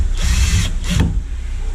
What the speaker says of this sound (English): we just need to put back our two screws here